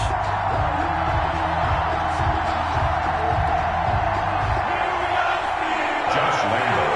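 Stadium crowd roar in an EA Sports football video game before a Denver Broncos versus Pittsburgh Steelers matchup, a steady, dense wash of cheering held at an even level throughout, with rhythmic low thumps underneath.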